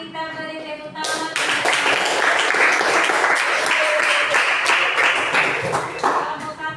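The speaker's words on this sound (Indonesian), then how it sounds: "mari kita beri tepuk tangan" A class of students claps together in a classroom during a lesson, a sudden burst of close, brisk hand clapping that starts after a brief pause and keeps going at an even pace for several seconds.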